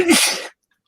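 One loud, close sneeze, a sudden forceful burst of breath that cuts off sharply into silence.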